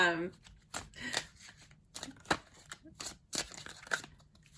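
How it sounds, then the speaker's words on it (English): Overhand shuffling of a tarot deck makes a series of short, dry papery riffles and taps in irregular bursts, close and fairly quiet, with some brief handling noise between them. "I can overhand shuffle this deck comfortably"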